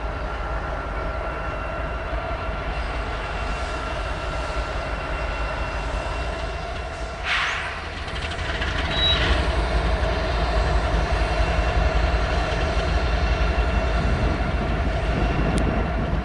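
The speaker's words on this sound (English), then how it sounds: "southbound train 8598 roars into view" Southbound freight train 8598 on a largely single-track mainline in the Shasta region roars past, a loud sustained rumble that swells and stays heavy and close throughout.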